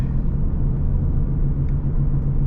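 A 2006 Infiniti G35X sedan cruises with a steady low engine and road rumble heard from inside the cabin, continuous and fairly loud.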